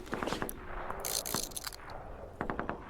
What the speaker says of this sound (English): So we can hear the gunshots.